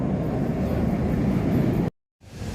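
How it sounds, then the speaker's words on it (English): A B&M floorless roller coaster train roars past with a dense, loud rumble that holds steady, then cuts off abruptly before the rumble resumes. "as you can see how tall that is with that train going by"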